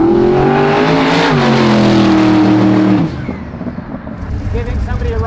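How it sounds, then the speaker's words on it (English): Turbocharged car running about 6 psi of boost, engine loud and close as it revs with rising harmonics, then the note breaks off sharply at three seconds into rougher roar and road noise. "this is going to be the fastest car you've ever been"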